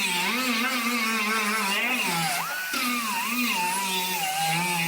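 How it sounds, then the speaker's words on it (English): An angle grinder works along the folded edge of an aluminum door skin, giving a steady, loud, close whine that wavers in pitch and briefly dips as the disc loads, with no talking. "you grind the edge of it where it's folded across"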